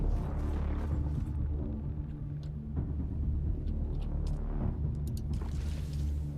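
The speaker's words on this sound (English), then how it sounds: "Sounds like a storm's coming in." Low, steady rumble of an approaching storm in the desert survival game Dune Awakening, a continuous deep roar with faint higher gusts, moderately loud and without talk.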